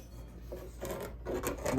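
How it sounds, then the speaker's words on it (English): Spoon scraping the bottom of a pan while turkey gravy is stirred over medium heat, heard as a few close, rasping scrapes that grow louder toward the end, with no talk. "And just keep stirring and scraping off the bottom."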